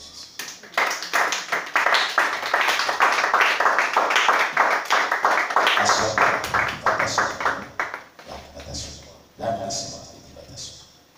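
A church congregation claps rhythmically in acclaim of Jesus, dense steady handclaps over about eight seconds before fading, with voices heard alongside.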